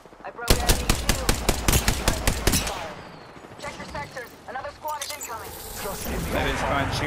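Rapid automatic gunfire rattles out in a fast, even burst during a firefight in a shooter video game on PS5. Scattered shots and game sound effects follow, with a voice talking over them.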